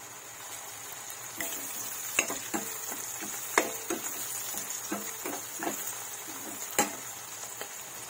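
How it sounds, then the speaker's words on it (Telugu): Onions and curry leaves frying in a pan for a dry prawn curry make a soft, continuous sizzle with scattered sharp pops and taps of a stirring spoon, fairly quiet throughout. "ఉల్లిపాయలు దోరగా వేగనివ్వాలి. కొద్దిగా కరివేపాకు వేసుకుందాం."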